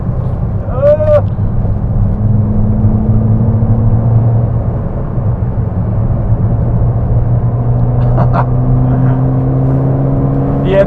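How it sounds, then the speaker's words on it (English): Engine of a cheap £1,000 car out on a race track, a steady droning hum with a low tonal whine that rises slightly in pitch, loud and continuous for the whole stretch, with brief faint voices near the start and end. "Engine, it sounds pretty good."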